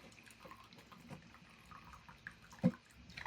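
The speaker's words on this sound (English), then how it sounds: "I'm pouring more coffee in my cup." Coffee pours into a cup in a quiet room, a faint liquid trickle and a few soft splashes, with a louder clink or splash near the end.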